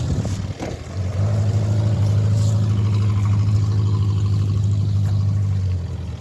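Steady low engine drone of a car being driven, loud and continuous from close inside or beside the vehicle, holding an even hum for several seconds before easing off at the end.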